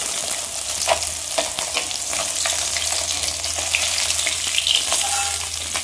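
Small fish sizzling steadily in hot oil in a frying pan, a continuous close crackle with occasional sharper pops and soft clinks, no voices.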